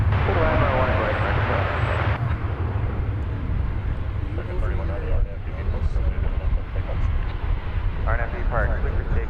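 A jet at DFW Airport, a heavy low engine roar that holds steady near the runway, with radio chatter and talk over it.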